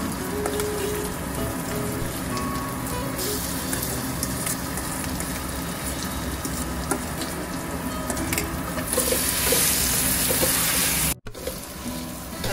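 Sweet potato paste for halwa being stirred and sautéed in a pan over low heat, a continuous close sizzle with scraping stirs throughout and a brief dropout near the end.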